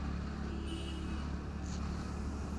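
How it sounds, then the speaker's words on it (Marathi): Steady road traffic on a congested route through Lonavala, a continuous low engine rumble and hum with no distinct horns or voices, moderately loud and unbroken throughout. "अरे काय ट्रॅफिक बाबा लोणावळ्यामध्ये."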